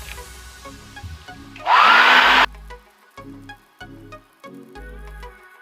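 Hair dryer drying paint on Converse shoes, a loud close blowing hiss in a single burst under a second long, set among a backing music track.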